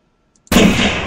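A long-range rifle shot in theHunter, fired from prone at bison or moose, bursts in sharply after near silence and leaves a loud, sustained rolling boom that fades only slowly.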